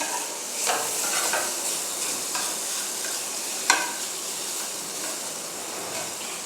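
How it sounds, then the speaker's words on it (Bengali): Onions with a little turmeric fry in a pan with a steady close sizzle, broken by occasional scraping stirs and one sharper clack of a spoon. "পেঁয়াজগুলো একটু লালচে লালচে হওয়া পর্যন্ত ভাজতে থাকবো।"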